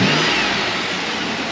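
A car engine roars loud and close in a brief throttle blip, a dense throaty rumble that eases slightly as the revs fall.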